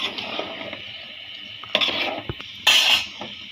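Washed lentils tipped into a pot of cooking ridge gourd, heard as wet rattling and splashing bursts with a metallic clank of the pot, close and fairly loud against a quiet kitchen background.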